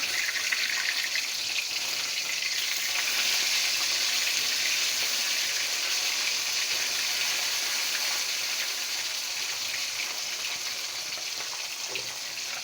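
Fish frying in oil in a covered pan, a steady, even hiss and sizzle that holds close and unbroken throughout, with no talking.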